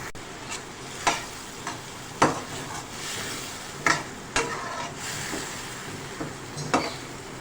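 Chopped garlic and ginger with tomato sizzle as they fry in a pan for a dhaba-style mash dal, with repeated sharp scrapes of a spoon stirring through the steady hiss.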